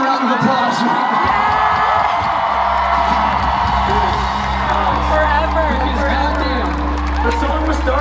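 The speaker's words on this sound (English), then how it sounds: "need to hear the loudest fucking round of applause right now" Concert crowd at Red Rocks roaring, whooping and applauding for the show's crew, a dense sustained wall of cheers with shouts and a low amplified hum underneath.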